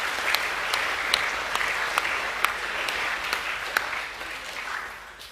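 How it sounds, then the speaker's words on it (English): Students and staff at a school assembly applaud boys receiving distinctions, a steady, moderately loud patter of many hands clapping with a few sharper individual claps standing out. "a round of applause for the boys receiving a distinction"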